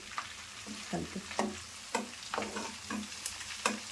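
Drumstick leaves dropped into sizzling homemade cow's milk ghee and stirred, giving close crackling frying with sharp pops and scraping stirs in an uneven rhythm, no voices.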